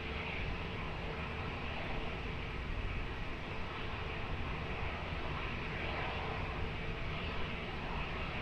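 An airliner roars on takeoff at Lisbon Airport, a steady broad engine rumble heard from a distance, continuous and alone without talk.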